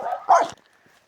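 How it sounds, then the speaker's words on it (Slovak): A single dog bark, fairly close, with a brief yelp-like tail, followed by quiet. "Suseda má psa."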